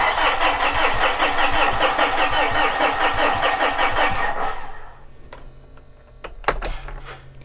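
A Mitsubishi FUSO truck with a 4P10 diesel engine and a no-start fault cranks on the starter, a rapid rhythmic chugging for about four and a half seconds that stops without firing, followed by quiet and a couple of sharp clicks.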